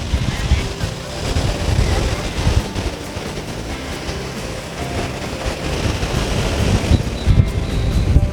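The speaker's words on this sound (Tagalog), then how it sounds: "malakas talaga yung alon eh" Steady roar of surf with rumbling low-end wash and gusts of wind buffeting the microphone, waves crashing continuously throughout.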